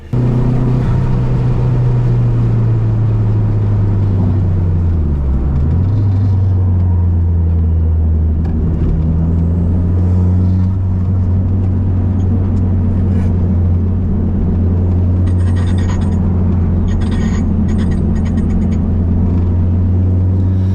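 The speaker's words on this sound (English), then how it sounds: "That sound was actually my accessory pulley," 2005 Dodge SRT-4 on a track in Las Vegas with a failing accessory pulley, heard as a steady loud engine drone with a shifting whine underneath and intermittent rattling noises, no talk.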